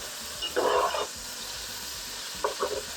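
Chicken frying in hot oil with onions makes a steady sizzle, punctuated by a few brighter bursts of crackling as pieces are stirred or turned, close and fairly loud.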